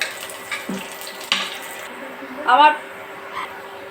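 Chopped onion, cinnamon and lightly cracked cardamom sizzle in a small pan as a tempering for jackfruit dal, a steady soft frying hiss with a few brief louder bursts of stirring.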